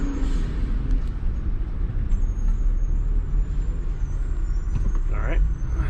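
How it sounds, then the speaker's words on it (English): Garbage truck driving past on a town street, a loud continuous engine rumble with air-brake hiss and traffic noise, steady and close throughout. "Oh, garbage truck. It's taking a right."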